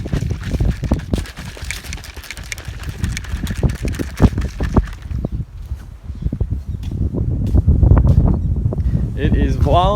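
Strong, violent wind blows hard and roars across the microphone in gusts, loud and continuous, near a bogged truck in dusty outback country.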